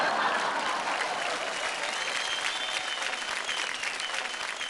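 Dense, steady applause from a television dance-show audience, sustained broadband clapping with crowd wash throughout, fairly loud and continuous without a break.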